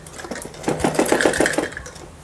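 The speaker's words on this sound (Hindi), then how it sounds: "तो आइए पहले सिलाई लगा लेते हैं।" A sewing machine stitches a Patiala salwar in short bursts of rapid mechanical clatter, close and fairly loud, with no talking.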